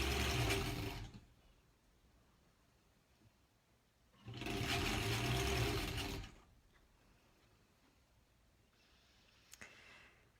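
Sewing machine stitching quilt block seams for a granny squares quilt, running in two loud bursts of a couple of seconds each with quiet pauses between, then a faint brief whir near the end.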